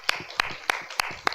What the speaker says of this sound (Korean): 박수하시기 바랍니다